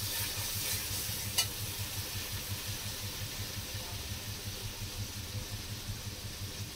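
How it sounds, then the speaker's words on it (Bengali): Panch phoron, with green chillies and Kashmiri chilli powder, sizzles in hot oil for doi katla, a soft steady frying hiss with one brief sharp crackle near the start, no voices. "পাঁচ ফোড়ন দিয়ে দিলাম"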